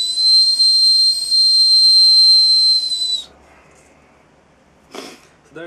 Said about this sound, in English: a willow flute, or a willow whistle, or a rowan whistle